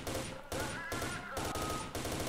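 Rapid automatic fire from a weapon in S.T.A.L.K.E.R.: Shadow of Chernobyl, several quick bursts in a row, loud and dense with little gap between shots, with no talking.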